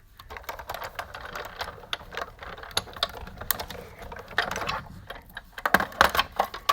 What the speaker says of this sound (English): now I'm going to cut out this leaf.